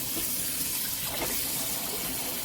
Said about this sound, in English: I'm gonna fill it up back with some water.